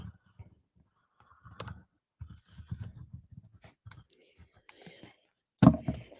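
Foil card paper is cut with faint, scattered clicks and crisp snips near the mic, broken by brief quiet murmuring and one louder rustle toward the end.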